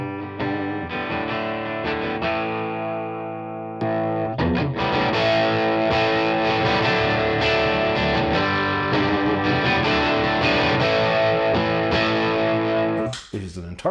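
Distorted electric guitar through a Laney preamp with an alternate speaker cabinet simulation, played as sustained chords and riffs that grow louder and denser after a brief pause, ending in a short burst.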